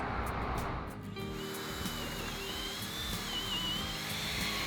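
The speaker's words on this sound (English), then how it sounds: "then I can come back and pre-drill my holes" A high-pitched drill whines steadily throughout while pre-drilling holes for deck railing, shifting slightly in pitch as it bites, fairly quiet with faint background noise.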